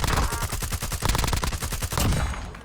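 Rapid automatic gunfire from a video game rattles loudly and continuously, dense bursts of shots filling the whole moment with no voices over it.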